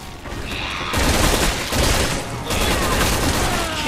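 Gunfire in the video game Resident Evil 6 rattles loud and dense in a rapid volley of shots. A mechanical clatter sits underneath with no voices.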